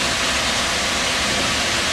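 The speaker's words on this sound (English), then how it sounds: "if we just pan down towards the waterfall" Waterfall on the River Dour pouring steadily, a loud, dense, unbroken rush of water close by with no voices.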